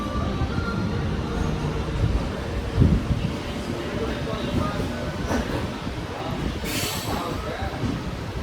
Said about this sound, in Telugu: ఈ ట్రైన్ ప్యాసింజర్ ట్రైన్ అయినప్పటికీ ఫాస్ట్లో ఏమాత్రం తగ్గదు